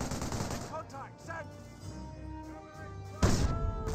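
Rifle gunfire in the World War II strategy video game Company of Heroes, with scattered shots and bursts under game music and voice effects, ending in a loud blast.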